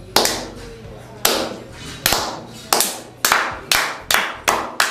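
A single person's hands clap sharply about eight times in a steady rhythm, close and loud, in imitation of a wrestling crowd clapping along to a match. There is no talking.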